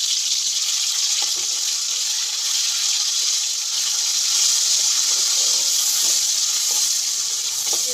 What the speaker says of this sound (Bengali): এবার আমি পেস্ট করে রাখা মশলাগুলো এর মধ্যে দিয়ে দেব।